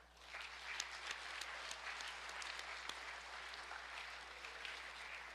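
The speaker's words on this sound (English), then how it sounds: "Let's give the varsity, before we even bring them up, a round of applause for that." A football banquet crowd applauds the varsity team with sustained, even clapping from many hands, heard at a moderate distance over a low steady hum in the room.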